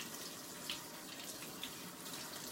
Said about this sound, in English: I need to rinse my sponge